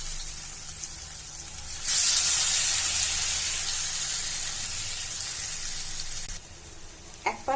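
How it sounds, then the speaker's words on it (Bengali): Batter-dipped slices of bread for egg bread pakora dropped into hot oil, a loud sudden sizzle that bursts in and holds steady as a broad hiss, then cuts back down near the end with a few light clicks. "দুই পাশে ভালো মতো ভিজিয়ে আমি তেলে ছেড়ে দেব।"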